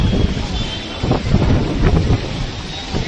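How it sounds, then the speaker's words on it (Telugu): Strong wind gusts sweep through an outdoor spot in Delhi, buffeting the microphone with a heavy low roar that swells in a few surges. "ఆఖరికి ఇప్పుడు గాలి కూడా బగ్గనే వచ్చింది"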